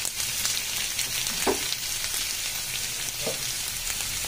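Ghee drips onto hot charcoal to smoke butter chicken, producing a continuous close sizzling hiss with a couple of brief soft pops along the way.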